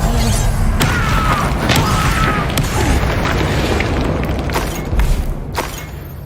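An Incendio fire spell in the Hogwarts Legacy video game erupts in a loud, booming fiery blast, rumbling and crackling close by with a few sharp pops before tapering off.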